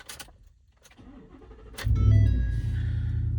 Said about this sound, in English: Vehicle comes to life